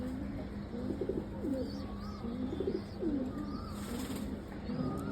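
Soft, repeated cooing of pigeons nearby in rhythmic bursts over a steady background hiss, with a brief swell of noise near the end.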